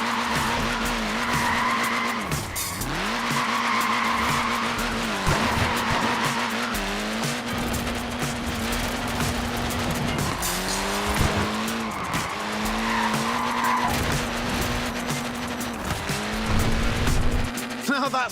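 A short-wheelbase, front-wheel-drive Mini slides and skids in Forza Horizon 4, with loud, continuous tyre squeal over a droning engine that rises and falls through repeated drifts.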